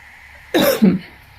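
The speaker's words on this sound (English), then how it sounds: "I start coughing because I just seem to have that issue lately" One person gives two quick close coughs in a row, loud and rough, with quiet before and after.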